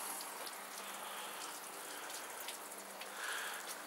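Water from a hose runs steadily to flush the outboard motor of a 2007 Sea Boss boat with a 90 hp Mercury, a quiet continuous splashing hiss with no talk.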